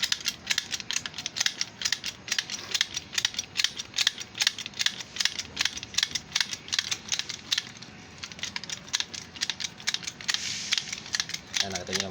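A repaired, reassembled bottle jack is pumped under test, giving a fast, regular series of close, sharp clicks and clacks that continue throughout with a brief pause midway.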